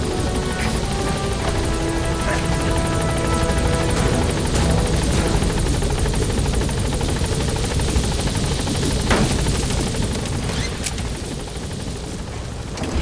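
Helicopter from the video game Metal Gear Solid V climbing away, its loud, steady rotor roar holding constant throughout with a faint crackle of distant gunfire mixed in.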